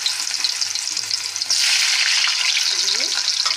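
Elephant foot yam frying in hot oil in a wok: a steady, close sizzle that swells sharply partway through and holds loud and hissing to the end, with no talking.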